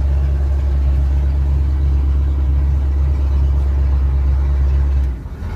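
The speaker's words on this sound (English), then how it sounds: "Back to neutral and happily idling." A 1989 Four Winns Sundowner boat engine idles after a cold start, a loud, steady low rumble close by that holds even for five seconds, then drops off sharply at the end.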